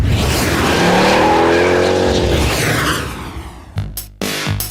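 Mazda RX8 or Nissan 350Z coupe launching hard on a handling circuit, a loud continuous engine roar with tire squeal rising through the start, then cutting into short broken bursts near the end.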